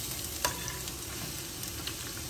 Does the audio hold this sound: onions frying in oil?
yes